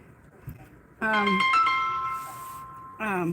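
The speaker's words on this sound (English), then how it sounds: "the other phone's ringing" A mobile phone rings aboard an Amtrak train, a bright electronic melody heard in a longer burst followed by a shorter one over low background rumble.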